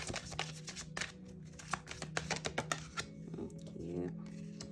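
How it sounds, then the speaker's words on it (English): Tarot cards being shuffled by hand produce quick, crisp riffling and tapping bursts up close, with a person talking over and between them. "Alright, let's keep shuffling."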